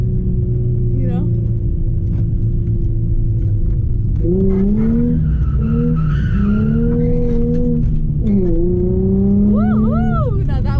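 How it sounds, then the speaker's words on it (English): A Nissan 350Z drifts through a corner, its engine rumbling as the tires squeal in long rising and falling wails, loud and close from inside the car. "what you guys think about my little drifting skills"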